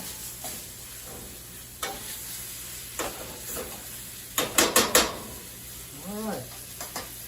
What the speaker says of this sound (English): Let's turn that over. Get the flour kind of incorporated in the oil.